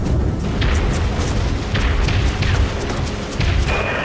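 Heavy booming explosive impacts pound a Tier 2 corvette warship in the game Dreadnought, a dense, continuous roar of loud blasts with sharper bursts layered over a rumbling low end.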